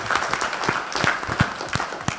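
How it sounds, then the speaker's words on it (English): An audience at a veterans conference applauds the first panel, clapping heard as a dense, irregular patter of sharp claps, moderately loud and continuous for the whole stretch. "I would like to give the first panel a round of applause"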